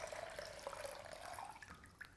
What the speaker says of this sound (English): I add nice clean water into my bowl